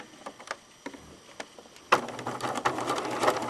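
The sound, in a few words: sewing machine sewing a velvet seam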